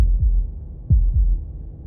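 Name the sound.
heartbeat in the video game Slay the Princess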